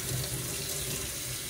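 Water from a tap running steadily onto potted orchid bark, a continuous close splashing wash with no pauses and no talk.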